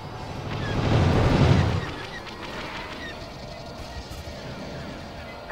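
TIE fighter engines roar in a Star Wars Battlefront II space battle, swelling to a loud howl within the first two seconds before easing into a steadier, quieter hum.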